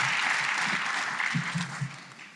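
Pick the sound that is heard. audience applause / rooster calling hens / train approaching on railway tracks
audience applause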